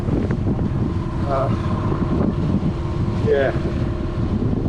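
A home-built sailboat motor sails to windward off Mallorca, its engine droning steadily beneath constant wind buffeting the microphone, while a voice speaks briefly.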